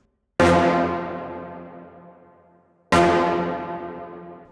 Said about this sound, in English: the point is to make some brass that sounds like this